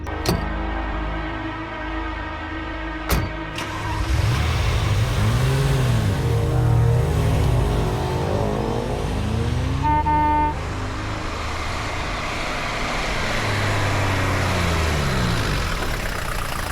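A car engine idles, then revs and moves off, its rumble fading gradually; a brief horn toot sounds partway through.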